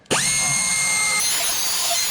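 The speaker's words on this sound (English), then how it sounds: "We got all 3 holes drilled" A power drill spins up sharply and whines steadily at high speed, close and loud, while boring holes in a homemade spill-proof chicken feeder; no one talks.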